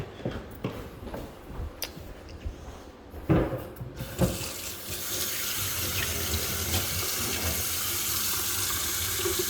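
A tap at a well-water home is opened partway through, starting as faint taps and clatter, then a steady, fairly close rush of running water that stays even to the end.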